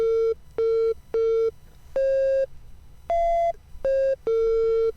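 A run of about eight short, dry synthesizer notes at shifting pitches, played with delay and reverb switched off, each cutting off abruptly with no echo or lingering tail.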